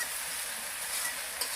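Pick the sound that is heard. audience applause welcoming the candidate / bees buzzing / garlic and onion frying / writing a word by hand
garlic and onion frying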